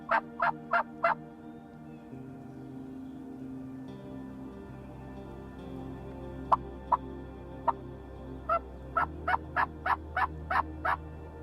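Wild turkeys gobbling at sunrise in the woods: a quick burst of four sharp gobbles, a few isolated calls, then a rapid run of about eight more, fairly distant over a low steady background hum.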